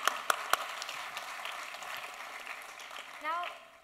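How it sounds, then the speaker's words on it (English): Audience applause at the launch of a radio show's second season, a steady broadband clapping wash after a few sharp early claps, with a voice briefly speaking near the end. "Can we give him a round of applause for that?"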